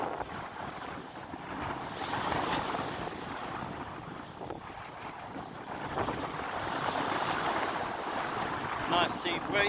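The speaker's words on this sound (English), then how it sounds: "Nice sea breeze, but not too strong." Steady coastal wind buffets the microphone while waves wash continuously along the shore in Fuerteventura, Canary Islands, a dense broadband roar that swells and eases without pause.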